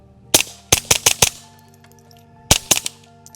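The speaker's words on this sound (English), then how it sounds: "we're shooting full power, high velocity Federal 22 ammo through this" A suppressed GSG 1911 .22 pistol fires full-power Federal high-velocity ammunition: a quick volley of five sharp, close cracks, a pause, then three more shots in rapid succession, each with a short echo.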